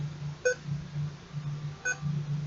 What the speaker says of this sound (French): Pourquoi ça bip comme ça?